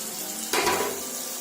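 Tomato puree is poured into a hot kadhai of frying paneer masala, and a sudden close sizzle bursts out and then settles into a steady, fainter hiss.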